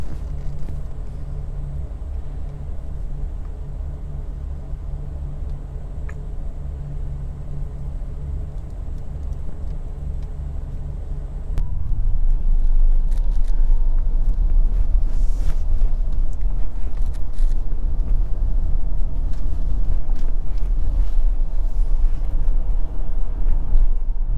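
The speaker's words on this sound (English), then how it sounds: "So driving around town, of course, you can see the EQB is very smooth" A 2022 Mercedes EQB 300 4matic electric SUV drives around town, heard from inside the cabin as a steady low road rumble. Partway through it grows noticeably louder and coarser, and no voices are heard.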